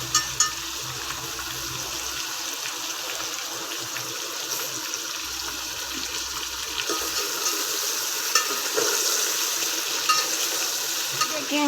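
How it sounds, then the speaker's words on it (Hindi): Chicken frying in ghee sizzles steadily in a pan, a constant bright crackle with occasional stirring scrapes, close and moderately loud with no talking. "5 मिनट इसको फ्राई करना है घी में।"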